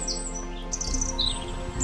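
A wren sings high, quick chirps and trills from woodland undergrowth over a low, steady background hum.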